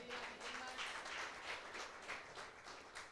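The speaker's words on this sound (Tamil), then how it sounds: "ஒரு கைத்தட்டல்." Church congregation applause during a Tamil service, a steady wash of many hands clapping at moderate distance, faint and continuous for a few seconds with no speech over it.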